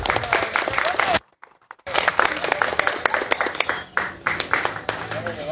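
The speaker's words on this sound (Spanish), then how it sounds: "Yo creo que se merece un buen aplauso" A crowd applauds doña Ana at a novena gathering, steady dense clapping that breaks off into near silence for a moment, then resumes strongly with scattered voices mixed in.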